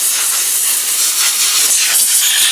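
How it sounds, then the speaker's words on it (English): Brake cleaner sprays onto a 300Tdi power steering pump in one steady, loud, close aerosol hiss that holds without a break for a couple of seconds. "I'm going to give it a quick brake clean off"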